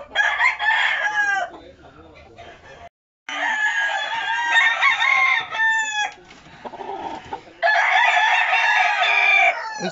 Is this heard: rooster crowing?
yes